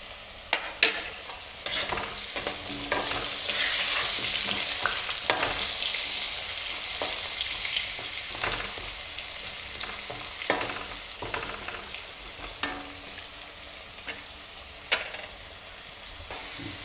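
Potatoes frying with turmeric in an Assamese-style home kitchen keep up a soft, steady sizzle, broken by sharp spatula clicks and scrapes against the pan at irregular intervals.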